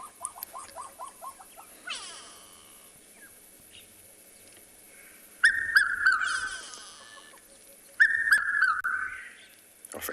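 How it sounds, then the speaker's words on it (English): A recorded red-chested cuckoo call plays on a sunrise safari, a few loud, clear whistled phrases separated by quiet gaps, with faint bird chatter and soft pulsing calls underneath and no talking. "we heard the characteristic call of the red-chested cuckoo"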